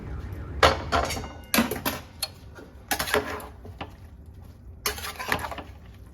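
Fried vegetables tipped into a pot of boiled rice and lentils for khichuri, producing a few bursts of sharp metallic clinks and scraping clatter against the pot, moderately close with quiet gaps between, and no talking.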